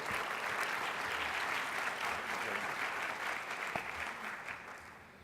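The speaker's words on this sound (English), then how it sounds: "A round of applause for our champion, Mayor Finch." Sustained audience applause for Mayor Finch at a mayors' plenary session in Dallas, a dense steady wash of many hands clapping that fades slightly toward the end.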